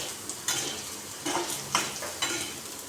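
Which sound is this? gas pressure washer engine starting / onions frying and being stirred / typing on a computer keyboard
onions frying and being stirred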